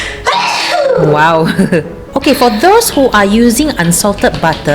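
A single sneeze bursts out partway through a baking demonstration for a chocolate chip cookie cake, heard among steady close talking.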